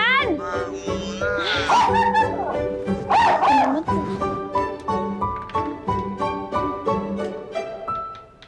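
A dog bark-yelps and whimpers in a few short yips around the 2 and 3 second marks, heard close over a bed of steady music, in a comedy series scene.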